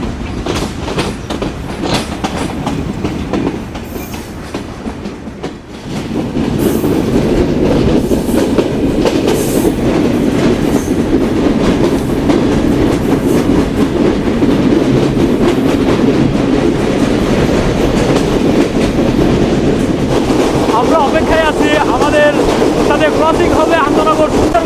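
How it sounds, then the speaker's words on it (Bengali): Intercity Chitra Express pulling out of Chuadanga railway station, a loud, close rumble that swells after a brief dip into steady wheel clatter on the rails, with a faint voice early on and a bright squeal near the end. "Intercity Chitra express departure Chuadanga railway station."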